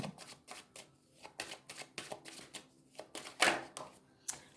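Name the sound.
cutting a deck of tarot cards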